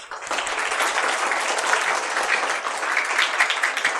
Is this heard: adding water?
no